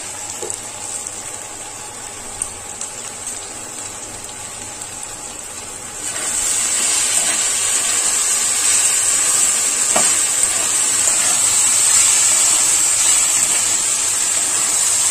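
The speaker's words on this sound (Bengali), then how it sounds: "এবার এর মধ্যে আমি বাঁধাকপিটাও দিয়ে দিচ্ছি।" Cabbage added to chowmein frying in hot oil: a steady low sizzle jumps to a louder, denser hiss partway through and stays loud, close and continuous without speech.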